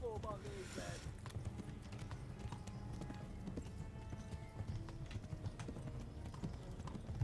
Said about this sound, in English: It's because the horse is running out of its stamina.